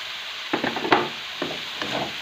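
Spoon stirring cauliflower frying in a pan with turmeric and dried coriander, a few scraping strokes over a soft, steady sizzle, close up with no talking.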